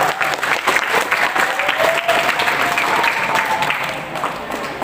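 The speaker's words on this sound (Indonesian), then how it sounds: "Tepuk tangan buat PKU" Sustained, dense applause fills a gathering of alumni at a halal bi halal reunion, many hands clapping loud and close without a break, with no voice on top.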